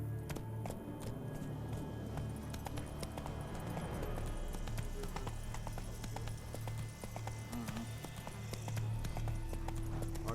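Horse hooves clip-clop at a steady gallop in The Witcher 3 video game, a continuous rhythmic beat over a low hum, fairly close and moderately loud.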